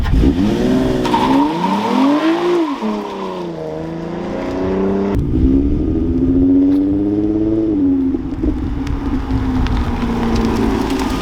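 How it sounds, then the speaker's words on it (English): Car launched hard on cheap Amazon tires, engine revving loudly while the tires spin, a sustained rising roar with a second surge midway, no voices. "hit the gas, let the car have a bit of a boost, and just launch it"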